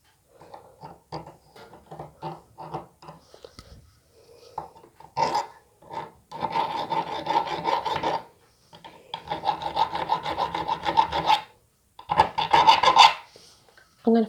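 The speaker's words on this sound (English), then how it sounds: "I've just filed that down." A metal file rasping down a part held in a vice during a jack build, heard as short strokes at first, then long steady back-and-forth filing passes with brief pauses, close and alone.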